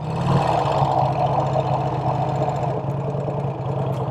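A vintage Vincent Rapide motorcycle with a magneto ignition runs steadily at close range, giving a loud, even, throbbing engine rumble with a faint mechanical knock throughout and no talking.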